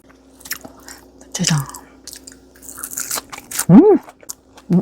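Close, wet chewing and biting of a hot chive pancake, a few brief crunchy and squishy mouth sounds with pauses, plus short murmured vocal sounds.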